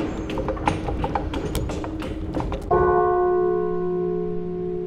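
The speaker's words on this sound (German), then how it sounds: "wir haben die Glocken angeschlagen auf ganz verschiedene Art und Weise, manchmal rhythmisch, manchmal auch den Nachklang" Bells are struck by hand in a sound-art piece, first as a quick rhythmic series of metallic taps, then one louder strike left ringing out with a long, sustained tonal decay.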